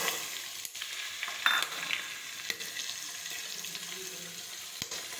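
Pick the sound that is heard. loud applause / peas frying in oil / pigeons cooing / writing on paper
peas frying in oil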